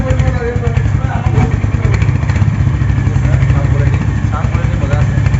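A new Royal Enfield Hunter 350 motorcycle runs at idle, its engine thumping steadily and close by with a mechanical clatter, while people talk over it the entire time.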